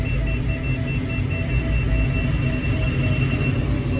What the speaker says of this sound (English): So that's a FLARM, it's a collision avoidance.